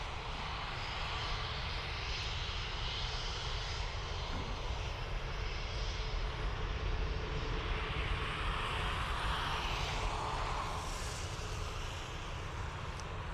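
A new Aer Lingus airliner, registration EI-XLW, taking off from Dublin Airport for London Heathrow: a loud, continuous engine roar that holds steady across the whole stretch, heard from outside at a distance.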